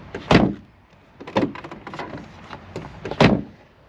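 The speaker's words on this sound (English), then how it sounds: "let's just double check the door doesn't catch the wing again." An Audi TT's door, on a crash-damaged car under repair, is swung shut and opened again, giving three distinct close thuds with quieter latch clicks and rattles between them.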